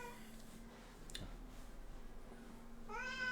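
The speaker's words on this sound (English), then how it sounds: "My cat's raising hell." A house cat gives an angry, drawn-out meow that rises sharply near the end, preceded by a faint, quieter cry amid low background hum in a quiet room.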